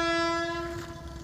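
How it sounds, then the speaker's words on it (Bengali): A train passes at close range and sounds a loud, sustained horn that fades as low rumble and wheel noise continue, with no talking. "ট্রেন চলে আসছে, ট্রেনটা যাওয়ার পরে আমাদের শ্যুট হবে।"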